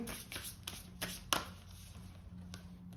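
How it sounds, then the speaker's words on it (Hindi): Tarot cards are shuffled and drawn at a reading table, several quick soft slaps and riffles of card stock, close and fairly quiet, with one sharper flick in the middle. "कुछ और कार्ड्स निकालते हैं यहाँ पे।"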